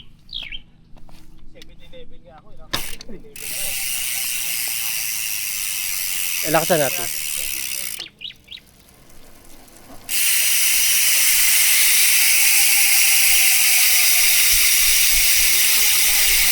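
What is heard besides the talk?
MTB freewheel hub ratchet clicking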